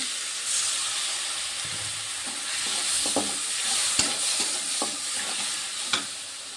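Potatoes and onions frying in a pan with salt, turmeric, ginger-garlic and chilli paste make a steady loud sizzle, with stirring scrapes and clicks through it.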